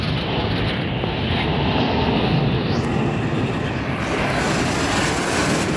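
A CSX freight train rolls past steadily, a loud, continuous rumble of wheels and railcars filling the scene without pause.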